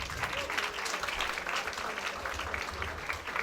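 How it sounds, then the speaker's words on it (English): Crowd applause at an outdoor Diwali lights switch-on event in Derby, a steady, dense wash of many hands clapping throughout. "Let's give them a big round of applause"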